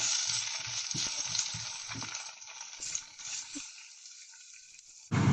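Onion, green chilli and curry leaves fry in a pan for a leeks side dish, a faint, hissy sizzle with soft stirring scrapes early on, thinning out before a sudden louder burst at the very end.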